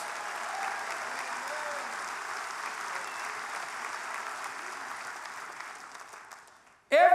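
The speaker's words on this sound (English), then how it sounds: "give Him a hand clap of praise that He's worthy of in this place" A church congregation claps in praise during a Thanksgiving sermon, a steady dense wash of many hands lasting several seconds before fading out, with a brief voice cutting in at the very end.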